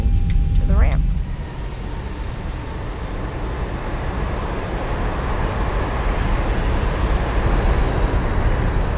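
Zibo Boeing 737-800 in the X-Plane 11 flight simulator taxiing toward the ramp at Palm Springs after engine start switches return to auto, giving a steady, loud engine roar that holds unbroken after a short tonal blip at the start.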